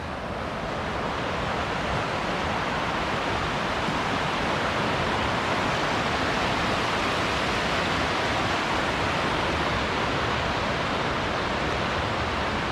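A winter creek in the Marble Mountains of Northern California flows steadily, a dense, even rush of water that runs on without a break and with no voices.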